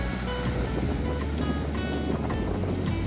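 Sea waves rolling onto the beach at Kochi, a steady broadband wash of surf with gusty wind noise, continuous and fairly loud throughout with no talking.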